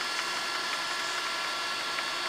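A Monza Model 510 twin grip centerless grinder running after being switched on, producing a steady, loud, even mechanical hum and whir with no voices.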